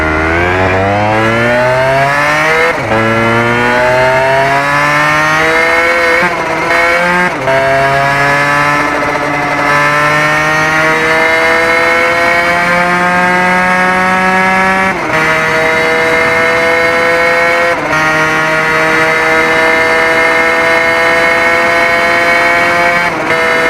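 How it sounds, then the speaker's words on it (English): A Yamaha TZR 125R two-stroke motorcycle in the RIDE video game screams loudly and alone, revving up through the gears with rising pitch, brief drops at each shift, then holding a high, buzzing whine. "delivering both power and that signature two-stroke sound"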